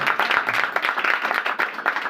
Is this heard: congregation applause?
yes